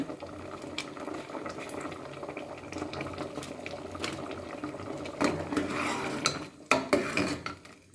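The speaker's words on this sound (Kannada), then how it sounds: "ನೋಡಿ ಸಾಂಬಾರು ಕುದೀತಾ ಇದೆ" Vegetable dal sambar bubbling steadily in a pot, a continuous close simmering hiss and burble with occasional utensil clinks near the end.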